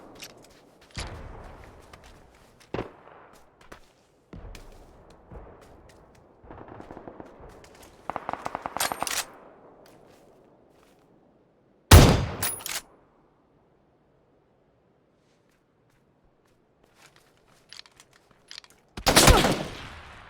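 Gunfire in the battle royale video game PUBG: scattered single shots and short bursts, some distant and faint, others loud and close, separated by quiet stretches and light footstep-like clicks.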